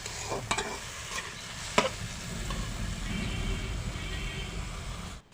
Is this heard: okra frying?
yes